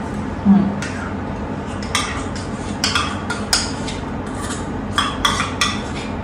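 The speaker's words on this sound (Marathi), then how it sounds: "पहिले तर आपण कढई ठेवूया" A metal kadhai (wok) set on a gas stove: scattered light metallic clinks and taps over a steady background hiss, with a cluster of sharper rattles toward the end.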